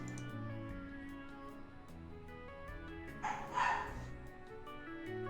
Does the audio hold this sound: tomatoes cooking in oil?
no